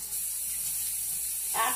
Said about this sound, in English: put it in here with about 1/4 cup of liquid. In this case, I'm using water